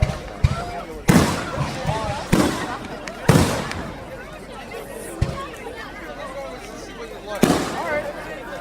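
Fireworks burst outdoors at night in a series of sharp, loud explosions spaced irregularly, with crackling tails between them and a crowd chattering in the background.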